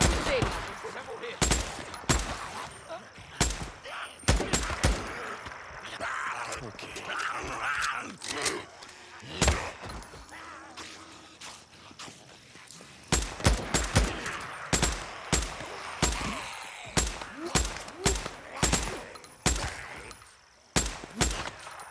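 Rapid bursts of gunfire in the PS5 game Days Gone, sharp repeated shots in volleys, with grunts and game sounds between and a voice talking over parts of it.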